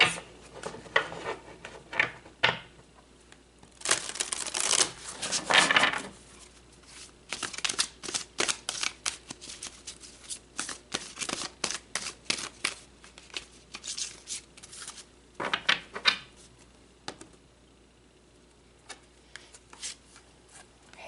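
Tarot cards being shuffled and handled in a series of riffling, flicking bursts with soft rubbing and tapping between them, close and fairly quiet, with no voices.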